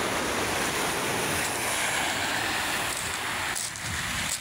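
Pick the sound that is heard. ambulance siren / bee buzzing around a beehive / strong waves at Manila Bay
strong waves at Manila Bay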